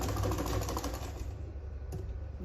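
A sewing machine runs a half-inch seam on a sleeveless gown, a fast, even mechanical chatter heard up close that eases slightly toward the end.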